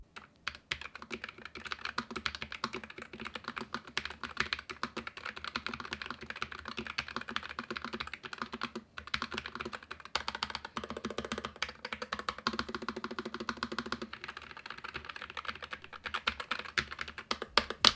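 Close, continuous typing on a mechanical keyboard with linear switches, a rapid uneven patter of key clicks that runs without pause.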